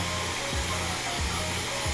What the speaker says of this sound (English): I like to get my blow dryer and on low heat just warm up that gel